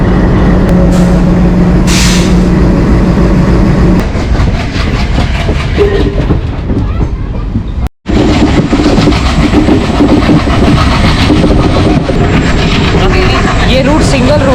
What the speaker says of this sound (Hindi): रेलवे इंजन भी स्टार्ट हो गया